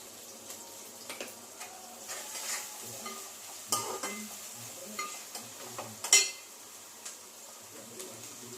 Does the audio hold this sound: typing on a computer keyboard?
no